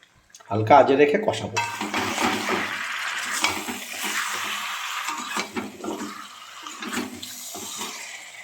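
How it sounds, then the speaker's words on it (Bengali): Chicken and fried potatoes stirred in a pan over low heat, with a sharp clatter at the start followed by intermittent scrapes and knocks of a spoon against the pan over a quiet, slightly watery background. "এখন আমি মাংস আর আলু হালকা আঁচে রেখে কষাবো"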